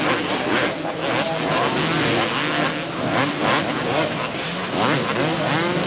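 Supercross motorcycles race at the 1991 Penrith Park Supercross Masters in Australia, their engines a loud, continuous roar that swells and dips as the bikes pass close by.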